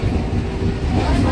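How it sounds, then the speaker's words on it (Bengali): A train pulling into a station in West Bengal near Ranaghat, heard as a brief, loud, low rumble close by. "তারপরে তার আগে ট্রেন ঢুকে গেছে"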